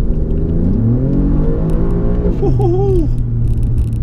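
Alfa Romeo Giulia Quadrifoglio with a 2.9 litre petrol V6 accelerating hard, a loud steady engine drone rising in pitch from inside the car, with a brief whooshing sweep near the end.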